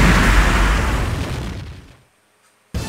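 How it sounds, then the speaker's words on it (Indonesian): A loud, booming fireball cannon explosion in a video game fight against Ultraman fades away into near silence, followed by an abrupt return of sound. "Makan ya api ya. Bola api meriam."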